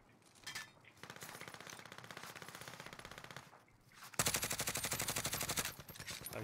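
Automatic gunfire in Call of Duty Warzone's zombies game mode, long sustained bursts of rapid shots, a steady stretch followed by a louder, denser burst near the end.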